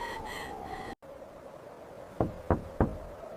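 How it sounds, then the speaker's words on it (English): Three gentle, evenly spaced knocks on a glass door, crisp and close against a quiet, faintly windy background, with a soft hum fading out early on. "Mom knocked gently on the glass door."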